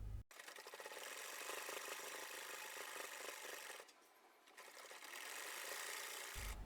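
A sewing machine stitches a seam on a salwar leg hem, running steadily and loud for most of the stretch, dipping briefly in the middle before resuming its continuous mechanical whir.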